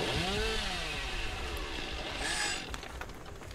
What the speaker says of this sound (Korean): 열었는데 전기톱 봤어.